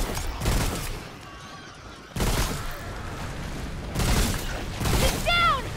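Weapon fire in Remnant: From The Ashes, coming as several separated heavy bursts of booming shots with echoing tails between them, close and loud, while a voice talks intermittently.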